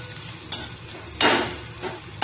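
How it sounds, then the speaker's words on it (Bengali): Chopped onions fry in a pan for a home-style lunch, a low steady sizzle broken by a few louder stirring scrapes and bursts of spatter, with no voices. "এবার পেঁয়াজটা ভাজা চাপিয়ে দিয়েছি।"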